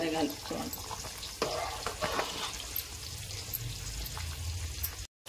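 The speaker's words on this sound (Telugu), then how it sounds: "పక్కన మనకి మటన్ కుక్ అవుతుంది. ఒకసారి కలుపుకోవాలి." Mutton cooking in a pan while being stirred, with a steady frying sizzle and scraping stir strokes, fairly close and continuous, briefly cut off near the end.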